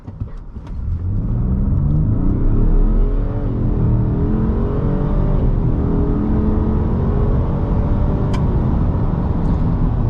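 A 2021 Ford F-150 PowerBoost hybrid pickup with a 10-speed transmission pulls hard from a standstill. Heard from inside the cab, the engine roars up in pitch through several rising sweeps as gears change, with a steady rumbling drone underneath.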